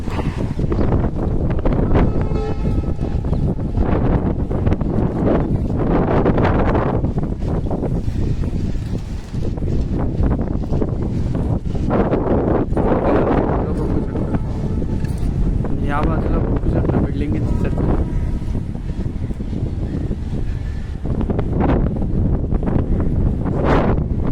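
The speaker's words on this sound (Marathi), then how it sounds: "एवढ्या जोरात हवा सुटले ना" Strong cyclonic wind in Mumbai buffets the microphone in loud, continuous gusts with roaring surges, while a person speaks faintly beneath it.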